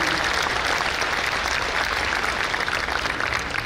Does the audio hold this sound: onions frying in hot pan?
no